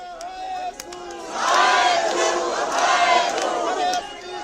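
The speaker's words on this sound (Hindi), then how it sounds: "प्रदर्शनकारियों की भीड़ जय श्री राम, भारत माता की जय और बांग्लादेश नहीं चलेंगे जैसे नारे लगाते हुए" A large crowd of protesters in an Indian street chants slogans in unison, a loud, dense roar of many voices rising and falling in rhythmic waves, with a brief lull before the chanting swells again.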